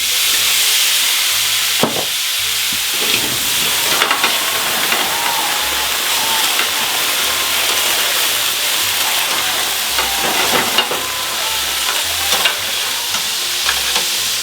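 Chicken pieces flambéed with cognac sizzle hard in a hot pan, a loud steady frying hiss broken by scraping stirs and clanks of the utensil.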